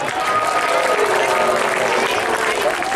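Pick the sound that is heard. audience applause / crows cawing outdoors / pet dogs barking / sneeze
audience applause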